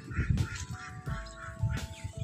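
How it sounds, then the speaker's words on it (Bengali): Ducks on a village pond in rural Bengal give a few close, nasal quacks in short bursts with brief pauses between calls, and no one speaks. "এদিকে দেখুন হাঁস"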